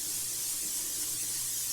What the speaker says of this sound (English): You're going to take a bowl and you're going to spray it down with some oil